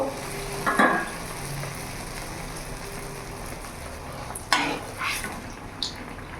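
Malpua batter frying in very hot oil on a medium flame, a continuous crackling sizzle with a few louder bursts and ladle clinks, up close with no talking.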